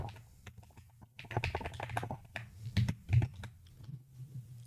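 Fingers type rapidly on a computer keyboard while entering C# code, producing a dense run of close, quick key clicks with no talking.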